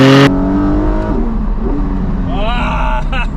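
A Porsche 718 GT4 engine revs and accelerates from inside the cabin, loud and steady, with rising and falling pitch sweeps as it climbs through gears.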